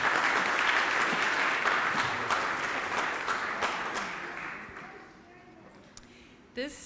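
A crowd at a school songs-and-sweets fundraiser applauds a winning bidder after a cake auction, loud dense clapping that slowly thins and fades out over several seconds, ending with a few scattered sounds.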